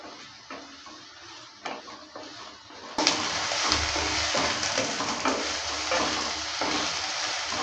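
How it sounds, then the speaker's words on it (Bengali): Eggplant pieces frying in a pan while being stirred, a quieter sizzle with scraping knocks that swells abruptly into a loud, continuous hiss after about three seconds, with intermittent clatter of stirring. "বেগুনটা দেওয়ার পর ভালো করে নেড়ে চেড়ে নিচ্ছে আর বেগুনটাকে একটু কিছুক্ষণ সময় দিয়ে লাল লাল করে ভেজে নেব"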